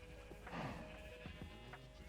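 Goats bleating in the video game TerraFirmaCraft, a few short wavering calls over a steady background hum, fairly quiet and mixed together.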